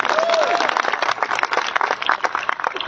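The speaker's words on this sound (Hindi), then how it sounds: "मैं चाहूंगा अपने लिए एक जबरदस्त तालियां आप लोग बजा लीजिए।" A big crowd applauds at a live talk in Jodhpur: loud, dense, continuous clapping close by, with a brief whistle near the start and voices faintly mixed in.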